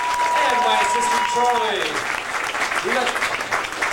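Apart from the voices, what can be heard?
audience applause at Disney-MGM Studios Backlot Tour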